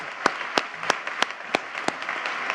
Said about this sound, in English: Let's hear it for Bob McKenna